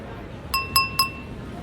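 Three quick, bright clinks of cutlery against a glass, ringing out evenly spaced and fairly loud over a murmur of background room noise.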